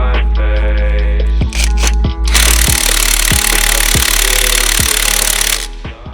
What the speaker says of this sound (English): I've had to nick Jay's impact